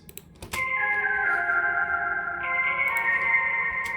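A simple Serum synth break melody for a future house track, sustained bright tones holding a steady pitch with a slight upward step midway, playing alone without any voice.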